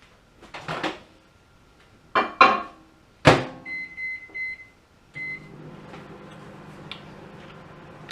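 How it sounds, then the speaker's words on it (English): A microwave oven heats pasta and meatballs to melt the cheese on top: a few clunks and clicks, a run of short electronic beeps, then a steady low hum that carries on to the end. "So I'm going to give it 30 seconds in the microwave."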